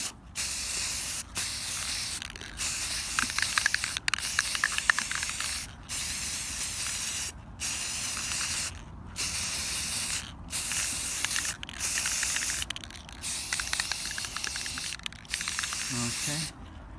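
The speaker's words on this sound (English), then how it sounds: "I'm just gonna spray a little bit at a time," Spray paint going onto furniture pieces in gold, a series of short hissing bursts, each a second or two long, with brief pauses between, close up and fairly quiet.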